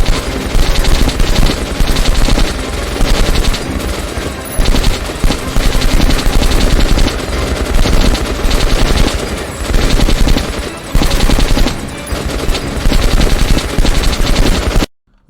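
Rapid automatic gunfire from a weapon in the shooter game Metro Last Light Redux, loud and close, with sustained bursts broken by brief pauses and explosive bangs, no talking.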